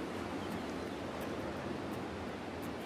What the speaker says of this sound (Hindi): जो समुद्र की वेव्स होती हैं उनकी आवाज़ बहुत तेज़ आवाज़ आती है